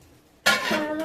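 A spatula scrapes and clanks against a pan while okra bhaji is stirred, one sudden metallic scrape followed by continued sizzling and rattling, close and fairly loud.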